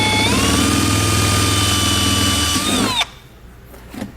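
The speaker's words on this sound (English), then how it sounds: "we're going to drill a hole first so we have our starting point" A power drill whines at high speed while boring a starting hole into a 2017 Jeep bumper, a loud steady drone close by that winds down and stops after about three seconds, followed by quieter handling noises.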